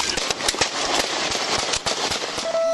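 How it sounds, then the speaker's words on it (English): A police officer firing his handgun in a rapid burst, a string of sharp cracking shots in quick succession, close and loud over a noisy background, without speech. "Shots fired."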